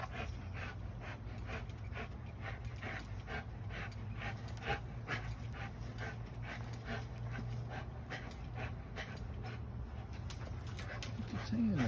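A dog panting rapidly and rhythmically close by, quick breaths repeating steadily, with an occasional soft whimper.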